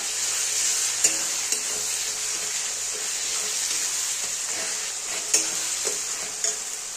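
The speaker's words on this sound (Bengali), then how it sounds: "ভালো করে কষিয়ে নেব।" Mutton with turmeric, salt, Kashmiri chili powder and ginger-garlic paste is stirred and fried in a pan, a steady close sizzle broken by occasional sharp spoon scrapes and clinks, with no talking.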